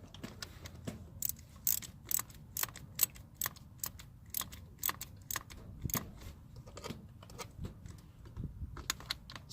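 A distributor hold-down being tightened during a Pertronix Ignitor ignition install: a close run of small metallic ticks and clicks in uneven bursts, like a wrench or ratchet working, fairly quiet with no talking.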